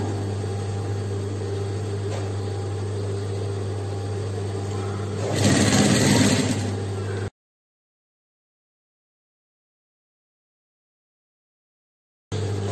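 A sewing machine stitching a vest hums steadily at close range, its motor note swelling loudly for a moment before cutting to abrupt silence and then resuming briefly at the end.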